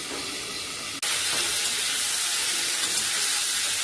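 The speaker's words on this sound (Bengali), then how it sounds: "ফুলকপি লাল লাল করে ভাজা হয়ে গেছে" Cauliflower frying in a pan gives a sudden loud burst of steady hissing sizzle that starts after a brief quieter moment and carries on evenly, close by with no voices.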